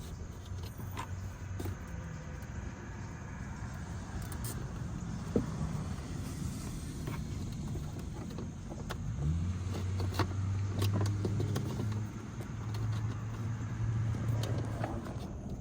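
A John Deere Gator utility vehicle engine turns over and catches, settling into a steady low idle with a rising rumble partway through, close by and without talk.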